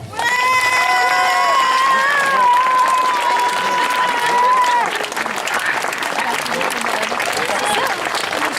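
A crowd loudly applauds the young people and staff behind the festive decorations, with sustained clapping and high cheering or whooping voices at the start that give way to continued applause.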